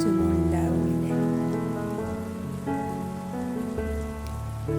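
Steady rain falls continuously and fairly loud, a dense even patter with no voices over it.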